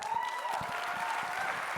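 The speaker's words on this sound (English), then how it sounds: "Big round of applause for your panel of experts." Applause for an expert panel at a business summit, soft and steady clapping from a seated audience, heard at a distance for a couple of seconds.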